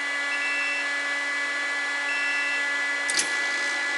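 Steady mechanical hum with tonal whine from a Robinair 34700 vacuum pump evacuating a Freightliner truck's AC hoses, constant and moderately quiet, with a brief clunk near the end.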